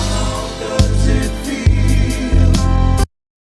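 A short stretch of a song plays loudly, with a steady beat of heavy low thumps under layered music, then cuts off abruptly.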